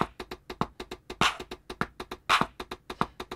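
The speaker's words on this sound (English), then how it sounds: "I added a shaker to give me a run actually" Shaker running through an Afrobeat-style beat, crisp rhythmic shakes over steady percussive hits and accents, looping at a quick tempo with no voices.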